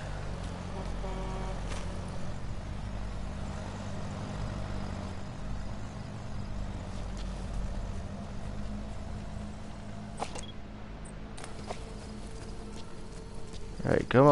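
Horse hooves clip-clop in the video game Metal Gear Solid V: The Phantom Pain, a faint steady rhythm under game ambience, with a voice cutting in at the end.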